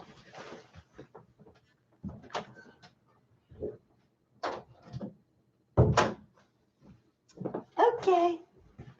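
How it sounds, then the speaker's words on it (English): An indoor door is pushed shut, giving a few sharp knocks and a solid thud among scattered handling noises, with a voice and some higher child-like sounds nearby. "I'm going to excuse myself and shut the door for 1 second."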